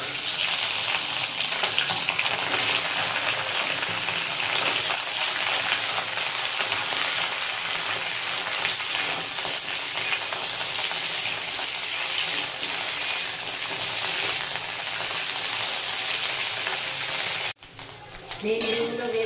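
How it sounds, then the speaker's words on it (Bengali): Okra frying in hot mustard oil in a wok, a steady dense crackling sizzle that holds loud and even almost throughout, with a brief break and clatter near the end. "তেল গরম হয়ে গেছে, এবার আমি ভেন্ডিগুলো প্রথমে ভেজে নেব।"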